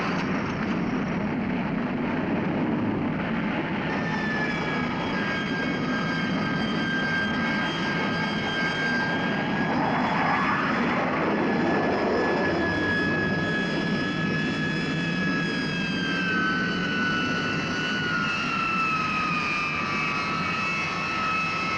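US Navy jet fighters launch by catapult from the deck of the aircraft carrier USS Franklin: a continuous loud roar of jet engines fills the air, with a whining tone that slowly falls in pitch as an aircraft moves away, and nobody speaks.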